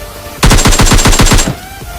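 Rapid automatic gunfire in PUBG Mobile Lite, a loud burst of about a dozen evenly spaced shots lasting roughly a second, then quiet.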